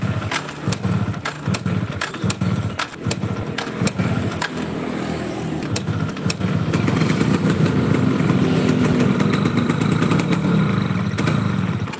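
A Yamaha Force motorcycle with its carburetor being tuned runs nearby, its engine revving in uneven bursts with rattling clatter, then settling into a louder, steadier drone toward the end.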